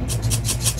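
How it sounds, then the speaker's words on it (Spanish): A shaker rattles in rhythmic pulses, swishing steadily over a low bass-heavy beat. "Lo siguiente que le añadí fue un shake."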